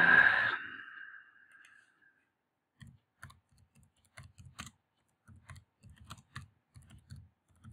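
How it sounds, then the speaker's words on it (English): Quiet, sparse keystrokes on a computer keyboard tap out a search in short irregular bursts, following a brief breathy burst at the start and a stretch of near silence. "Let's just type that in."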